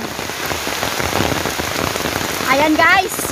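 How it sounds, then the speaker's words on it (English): Heavy rain pours down in a nature park in Singapore, a loud, constant drumming hiss on surfaces, with a brief voice rising over it near the end. "I caught rain in the nature."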